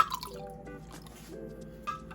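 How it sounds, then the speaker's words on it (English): Half a cup of cold water pouring into a dissolved strawberry Jell-O mixture in a kitchen, a short close trickle and drip of liquid with faint splashes. "I'm now going to go in with 1/2 cup of cold water."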